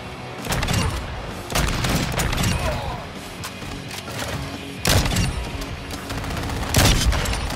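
Bursts of gunfire in the video game Modern Warfare 2, using the Bryson 800 shotgun, with several loud sharp shots spaced a second or two apart over a busy backdrop of game noise.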